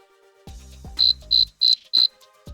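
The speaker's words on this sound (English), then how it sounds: "So something else that I did is I bought crickets. So these little devices," An electronic cricket prank device chirps in four evenly spaced bursts, each a sharp high-pitched trill, clear and close against a near-silent room after a couple of low thumps.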